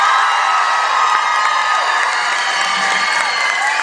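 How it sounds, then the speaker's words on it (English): A lively crowd at a live comedy performance in New Mexico cheers and whoops in a steady, loud, dense roar with scattered shouts and clapping, filling the whole stretch without any clear talk. "It's a good crowd. I like this."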